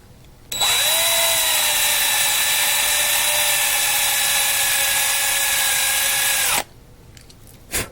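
A high, whining power drill drills out a 1/64 scale diecast NASCAR model car, running continuously for about six seconds at close range, starting and stopping sharply, with a faint click afterward.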